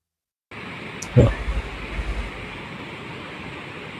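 A waterfall in Cambodia sends up a steady, broad rushing hiss that starts abruptly and holds constant, with a brief voice and a few soft bumps near the start.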